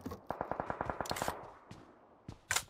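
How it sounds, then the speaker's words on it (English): Gunfire rattles during a big fight in a shooting video game: a rapid automatic burst of about a dozen evenly spaced shots, then a few scattered single shots and a loud final bang, with no voices. "And a bunch of people shooting."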